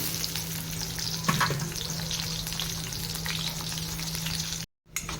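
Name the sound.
onions frying in oil with mint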